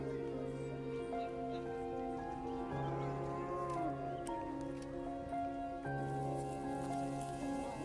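Cattle lowing at a busy cattle market in Madagascar, several long moos at close and middle distance overlapping one another, with faint background murmur.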